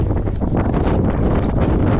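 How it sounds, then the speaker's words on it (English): Strong wind batters the microphone on a beach, a loud continuous roar and buffeting rumble with no pauses. "Sorry, it's super windy, guys. It's crazily windy."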